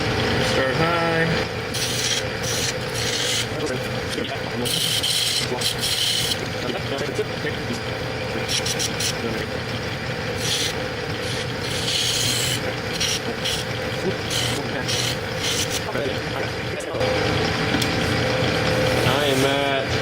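Skew chisel cutting into wood on a lathe while turning a king piece for a giant chess set, a continuous rough scraping rasp with shifting bursts, steady and close throughout with the spinning workpiece underneath.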